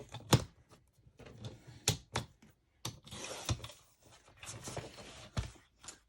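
Scissors or a blade cutting craft paper for a fall journal, a series of sharp snips and rustles in short bursts with pauses, close and alone.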